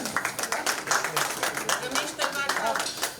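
A crowd at an Urdu poetry album launch event gives a round of lively, rhythmic clapping, with a voice speaking over it.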